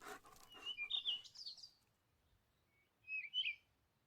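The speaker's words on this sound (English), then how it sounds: "He loved to listen to the birds sing." Two short bursts of high bird chirps, quiet and alone, with a pause of near silence between them.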